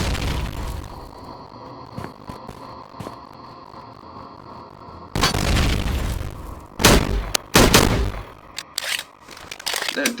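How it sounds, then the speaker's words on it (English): Rockets firing and exploding in the video game Slendytubbies 3: a few sharp pops in the opening seconds, then loud booming blasts and bursts that come in clusters, with rumbling tails between them. "you know, rockets. And actually, let me just showcase that real quick."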